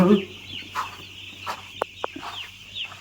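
Several broiler chickens on a poultry farm cluck in short scattered calls, fairly close, over a steady low background hum.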